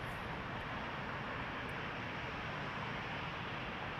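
A passenger airplane rotating on takeoff at Toronto Pearson Airport, a steady distant roar of jet engines filling the air evenly throughout.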